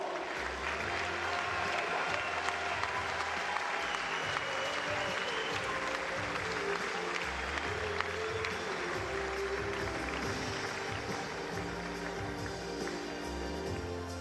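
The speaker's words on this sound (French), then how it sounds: "Et vous allez pouvoir les applaudir chaleureusement" Steady, dense applause fills an arena at the French table tennis championships podium ceremony, a large crowd clapping continuously with a low hum of music and public-address sound underneath.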